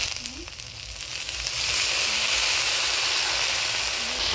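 Water poured into a hot pan of browned crushed garlic and chopped taro leaves with a little salt, the sizzle swelling into a loud, steady hiss that holds to the end.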